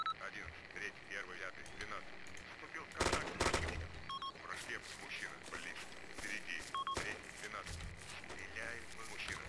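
Gunfire in the Arma 2 military video game, several broadband bursts of shots around three and seven seconds over continuous game ambience, with someone talking throughout.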